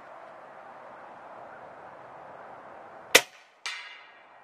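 Two sharp, loud shots from a Snowpeak M60B .357 (9mm) air rifle at 65 yards, the second half a second after the first, each with a short ringing tail over a faint steady background hiss.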